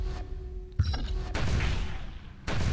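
Gunfire in Far Cry 3 multiplayer, a few sharp booming shots with abrupt onsets separated by brief gaps, over a low hum of game ambience.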